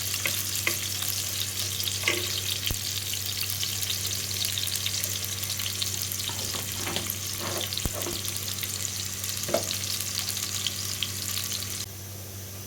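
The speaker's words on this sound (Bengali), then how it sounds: "পেঁয়াজগুলো একটু ভাজা হোক।" Onions sizzle steadily in hot oil in a pan for home-made chicken khichuri, a continuous close frying crackle with a few stirring scrapes and clicks, no voices.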